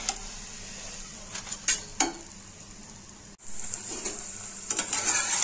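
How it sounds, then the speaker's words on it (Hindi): Gobi paratha cooking on a griddle over medium heat, a soft continuous sizzle with a few scraping and clinking knocks as it is turned, with a brief break midway. "पराठे को मीडियम आंच पे उलट पलट कर दोनों ओर से सेकेंगे।"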